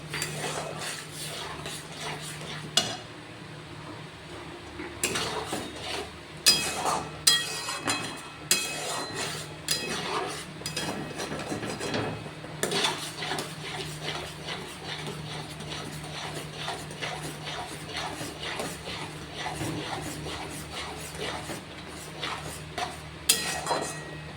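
Spatula scraping and clinking against a pan as chhana (fresh cheese curd) is stirred dry with ghee for kachagolla sandesh, irregular close knocks and scrapes over a steady low hum.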